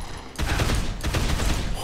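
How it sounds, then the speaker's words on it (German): An AK assault rifle fires in the zombie game Dead Island, loud sustained automatic bursts in two close-range volleys after a brief quiet moment, with no speech. "Ich benutze gleich mal die AK."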